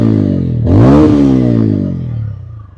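A TVS Ronin motorcycle engine revs up from idle, swelling into a loud, close rising surge around the first second, then easing back down toward a steady idle rumble.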